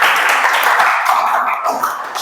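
Students clap together in a classroom, a steady, dense patter of many hands lasting a couple of seconds with no one speaking over it.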